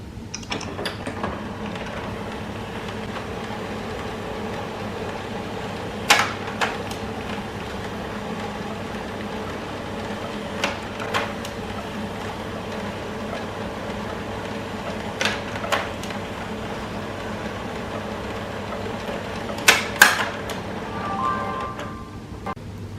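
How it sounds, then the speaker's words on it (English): An HP LaserJet Pro MFP 3101dwe printer whirs steadily as four pages feed through its automatic document feeder for scanning, with occasional sharp clicks and clunks of the mechanism spaced throughout, no talking. "We will scan 4 pages using the automatic document feeder."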